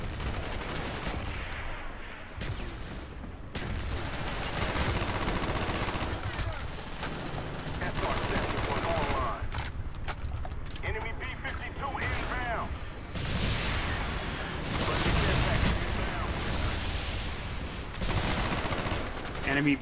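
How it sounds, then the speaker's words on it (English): Mortar rounds slam down amid a dense, nonstop firefight in Call of Duty Black Ops, with loud overlapping gunfire and blasts rolling on for the whole stretch. "Enemy mortars coming in."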